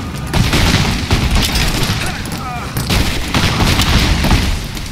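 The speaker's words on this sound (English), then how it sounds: "Fireworks!" Gunfire and explosions in the Rise of the Tomb Raider game, with loud, dense bursts of rapid shots and booming blasts in waves, and voices shouting over the battle.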